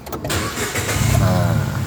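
A Nissan March with a push-button ignition cranks and fires up while the brake is held, its engine catching and settling into a steady mid-pitched idle, close and fairly loud, with a voice talking over it.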